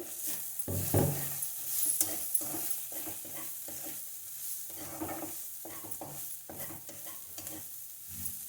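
Raw papaya pieces fry in a pan for a raw papaya curry, with a steady sizzle throughout and repeated scraping, stirring strokes of a spoon against the pan at an uneven rhythm, fairly close by.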